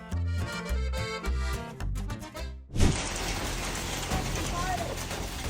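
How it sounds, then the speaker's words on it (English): Hailstones pour down in a dense, loud, continuous clatter and roar. The storm bursts in abruptly after a stretch of music and keeps going steadily to the end. "Hail forms when water droplets are carried high up in a storm, freeze repeatedly, and then fall to the ground as ice stones."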